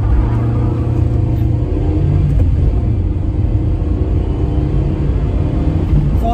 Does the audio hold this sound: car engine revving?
yes